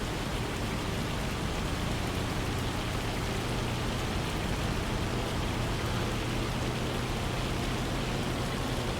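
Heavy rain pours down steadily in a farming video game, a dense, unbroken wash of broadband hiss with no talk over it.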